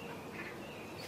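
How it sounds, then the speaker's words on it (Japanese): Duck-like bird calls sound faintly in the forest of a hunting video game. They are brief and quiet, set against a constant wash of ambient outdoor noise. "鳥の声結構するんですけどね。"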